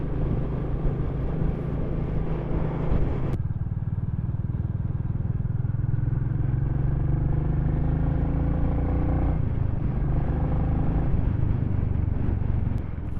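A Royal Enfield Classic 350 single-cylinder motorcycle being run in thumps along at a steady pace, its engine note rising and settling through gear changes under continuous wind rumble, no talk.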